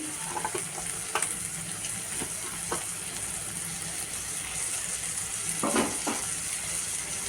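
Cauliflower and carrot frying in a pan for a hotel-style veg korma, with a steady close sizzle and hiss broken by scraping stirs and clinks, without any talk.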